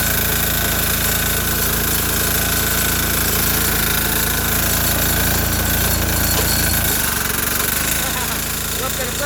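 A Sears Suburban garden tractor with a 6HP diesel engine drives in second gear. It gives off a loud, close, steady knocking diesel clatter with heavy vibration that runs continuously and shifts slightly in tone near the end.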